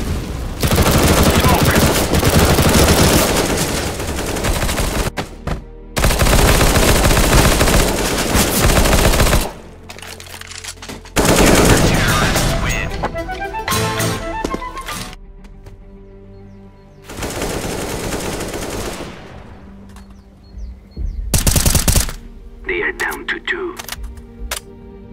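Gunfire from the video game Counter-Strike: Global Offensive on the Inferno map during matchmaking, several loud bursts of automatic fire separated by short gaps, with speech in between.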